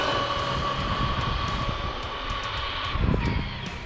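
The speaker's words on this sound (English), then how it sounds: "That's full throttle all the way down." A stock Arrma Kraton v2 RC car runs at full throttle down a street on a speed run, making a steady, loud electric motor whine that holds throughout and swells briefly near the end.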